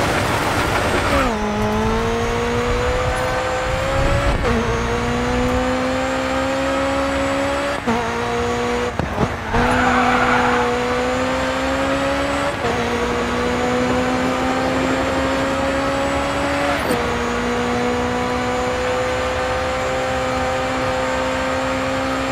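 A race car in the video game GRID 2 during a time attack event drones loudly and steadily, its engine pitch climbing through gears with several sharp shift drops and a brief tire-squeal burst midway, no talking.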